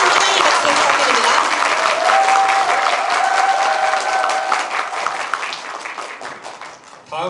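Audience applause greets the mayor at a Sejong citizens' dialogue event in Naseong-dong, with dense, loud clapping that holds steady before tapering off near the end.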